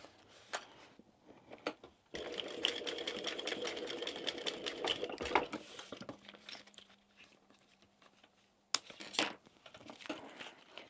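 A sewing machine bastes pieces of a small crossbody wristlet bag, humming steadily at close range for several seconds. Short stitching bursts and quiet handling noises come before and after it.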